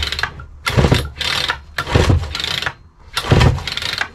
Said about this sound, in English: Alright, so pull this starter handle 4 times.